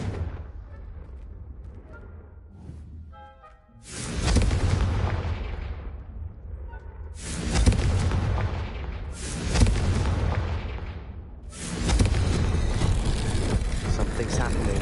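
Confringo blasting spells exploding in Hogwarts Legacy, several loud booming blasts in separate bursts with rumbling tails, with a voice speaking between them.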